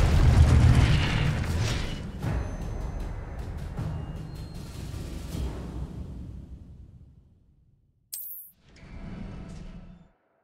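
Incendio fire spell cast in Hogwarts Legacy: a loud bursting boom that trails off into a rumbling, crackling decay over several seconds, followed after a short gap by a brief bright chime and a softer whoosh.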